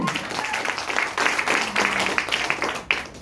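An audience claps at a seminar, a dense, moderately loud patter of hands that swells and continues, with a voice talking faintly beneath.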